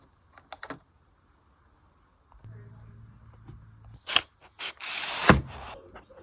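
Mechanical keyboard switches are pressed into an RK61 board: a few faint clicks, a low hum, then several sharp plastic snaps and clacks up close, with no talking.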